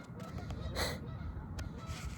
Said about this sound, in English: These geese won't shut up.